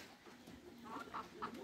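Chickens cluck in a few short bursts close by, mixed with faint bird chatter, in a yard where pigeons are also kept after rain.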